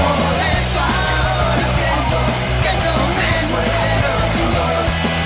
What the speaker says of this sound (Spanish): Explota el hincha de Nacional, lo grita con locura y lo grita más porque fue Suárez.